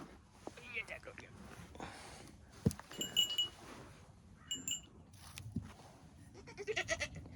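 A goat bleats several times in short, close calls spread through the clip, mixed with a person talking and cooing to it nearby.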